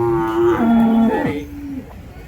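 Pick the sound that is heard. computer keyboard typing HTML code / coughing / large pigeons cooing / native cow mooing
native cow mooing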